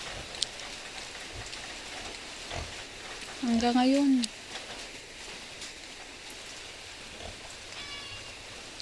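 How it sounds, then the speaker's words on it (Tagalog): Steady rain falls throughout on a rainy day somewhere in the Philippines, a constant wash of fine patter. A short animal-like call breaks through midway, and a person speaks briefly. "Yung ulan."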